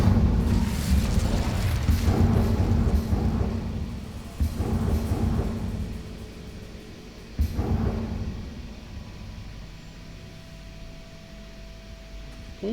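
An Incendio fire spell cast in Hogwarts Legacy erupts in a loud, roaring whoosh of flame with booming rumbles, rising in several surges before fading to a lower rushing hiss.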